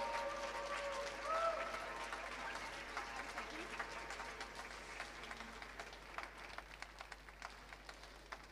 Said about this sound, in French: Je pense qu'un peu plus fort les applaudissements.